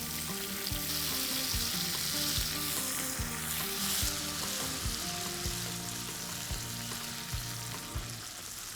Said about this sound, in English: To this oil, I'm going to add some urad dal, some red chilies, some curry patta, and tomatoes.